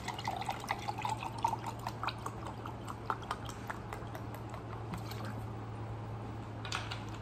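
Cold water poured from a bottle into an apple cider vinegar and black salt mix, a continuous close trickling and splashing flow under a steady low hum, fading near the end.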